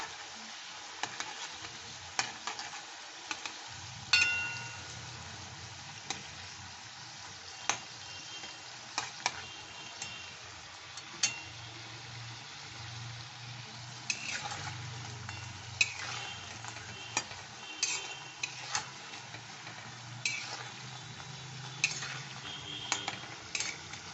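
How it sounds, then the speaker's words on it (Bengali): Kathi gaja strips frying in hot oil, a steady soft sizzle broken by frequent light clinks and scrapes of a utensil as the pieces are turned and stirred, close and continuous with no talk. "এরকম ওলট পালট করে একটু ব্রাউন করে ভেজে নিতে হবে"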